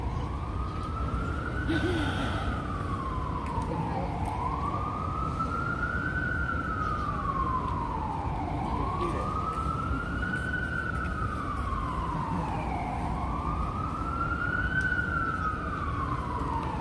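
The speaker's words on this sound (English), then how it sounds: "Sirens, a long time no hear." A wailing siren rises and falls in slow, repeated sweeps, fairly loud over a steady low rumble of New York City traffic near the High Line.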